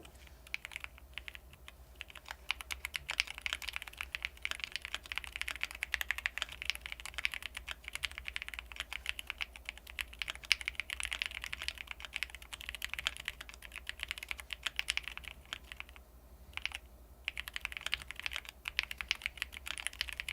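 Steady rapid typing on a computer keyboard, continuous irregular key clatter for about twenty seconds, quiet and close, with no talking.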